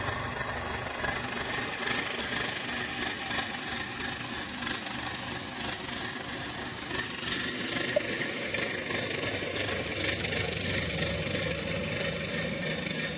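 A tractor engine runs steadily at close range, a loud continuous rumbling clatter with no other sounds.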